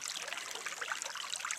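Water trickles and burbles in a shallow stream in the Powder River area near Anthony Lakes, a soft continuous bubbling with faint splashes, fairly quiet and close, with no voices.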